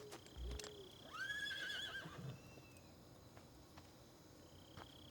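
A horse neighs and whinnies in Metal Gear Solid 3: Snake Eater, a rising then wavering call near the start, set over a faint bed of insect and outdoor ambience with no talk.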